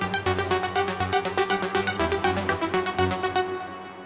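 A bass line joins a melody in a song reworked in another style, with a pulsing low groove under bright repeated plucked notes, steady and moderately loud before fading near the end.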